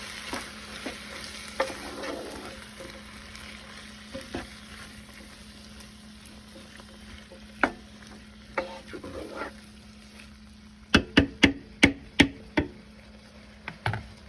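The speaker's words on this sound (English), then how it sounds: "I'm going to give that a good stir." Diced tomatoes stirred in a slow cooker for chicken fajitas, a quiet wet stirring with scattered taps, then a quick burst of spoon clinks against the pot near the end.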